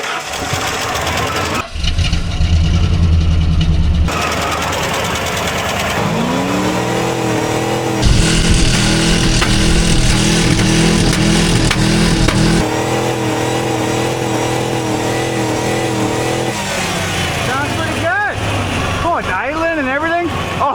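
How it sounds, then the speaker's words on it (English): A 1996 Ford F-350's 351 Windsor V8 engine starts and runs loud and close, holding a rough idle between bursts of revving, with voices talking over it now and then. "It runs though."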